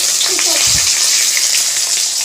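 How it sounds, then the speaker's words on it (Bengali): Fish frying in hot oil in a home kitchen, a steady broadband sizzle running throughout at close range, with a brief low thump partway through. "মাছ ভাজা বসিয়েছি"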